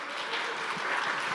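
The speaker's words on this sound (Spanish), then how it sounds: "Les brindamos un fuerte aplauso a nuestros conferencistas." An audience at a conference on building administration applauds its speakers, giving a dense, even clatter of many hands clapping at a steady level throughout.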